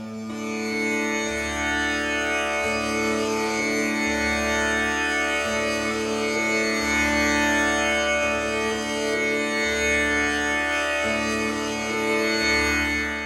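A tanpura drone from the Fluffy Audio Zen Garden sample library rings out steadily from a keyboard. Rich sustained overtones shimmer above low plucked bass notes that repeat in a slow, even cycle, with no voice over them.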